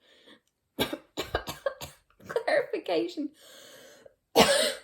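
Several harsh coughs in quick bursts, close to the mic, followed by a brief pause and one more forceful cough.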